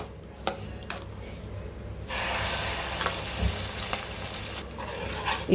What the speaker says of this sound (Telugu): ఇప్పుడు అదే ప్యాన్లో నూనె వేసుకుని, నూనె హీట్ ఎక్కింది కదండి, ఇందాక మనం పేస్ట్ చేసుకున్న పేస్ట్ని కూడా ఇందులో వేసేసుకుందాము